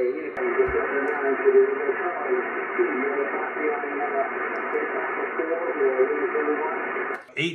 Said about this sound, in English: the quality of his signal is awesome